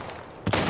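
A single loud, close shotgun blast goes off abruptly after a brief quiet moment in The Last of Us Part 1 video game.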